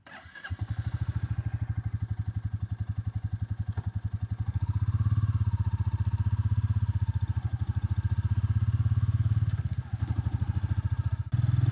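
A Royal Enfield Classic 350 motorcycle thumps along on a ride, its single-cylinder engine a steady rhythmic pulse that swells louder under throttle midway, close and continuous throughout.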